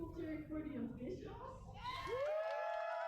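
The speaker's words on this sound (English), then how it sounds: "And are there also some people cheering for the Golden City Rollers?" A crowd at a roller derby match between Johannesburg's Golden City Rollers and Rotterdam's Death Row Honeys cheers and whoops in a short burst, mixed with shouting voices that rise into a loud sustained yell near the end.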